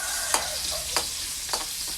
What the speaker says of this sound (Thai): แล้วใส่เครื่องแกงลงไปผัดนะคะ